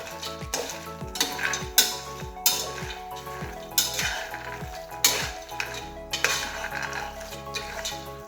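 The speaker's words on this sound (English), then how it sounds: "So you have to mix them up so that the butter is mixed to all the cashews" Cashews roast in butter in a pan over a low flame while being stirred, with repeated rhythmic scraping and clinking of a spoon over a soft, continuous sizzle.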